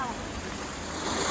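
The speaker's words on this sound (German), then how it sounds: "Ja, hier kommt der Wasserfall jetzt." A waterfall in central Tunisia rushes in a dense, steady roar of falling water, close and unbroken throughout.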